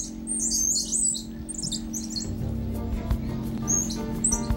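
Hungry squirrel monkey calling in rapid, high, bird-like chirps and squeaks, repeated in bursts over a steady low background hum.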